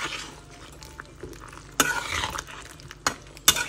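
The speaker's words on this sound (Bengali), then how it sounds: "জিরের গুঁড়োটা একটু মিশিয়ে নেব" A spoon or spatula stirs cumin powder into plain, turmeric-free vegetables in a pan, giving soft continuous scraping with a few sharper metallic clinks at irregular intervals, close and fairly quiet.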